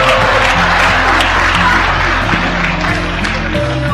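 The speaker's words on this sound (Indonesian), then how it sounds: "tepuk tangan" Audience applause at a Cak Nun gathering on Pancasila, steady and loud throughout, with a droning musical tone and faint voices mixed in underneath.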